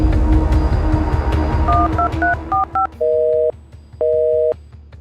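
A telephone keypad is dialed to call the police: a quick run of short, distinct button beeps, followed by two longer steady tones, loud and clear with no talking.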